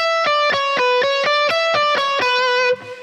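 Electric guitar plays a fast, even alternate-picked run of single notes in E Dorian, about four per second, clear and close, ending on a ringing note.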